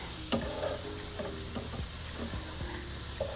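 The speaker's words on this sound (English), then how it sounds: "So slide those onions and peppers to the side." Onions and peppers sizzle steadily in a frying pan while being slid aside with a utensil, with occasional light scrapes and taps over the continuous frying hiss, no talking.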